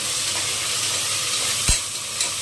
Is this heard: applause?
no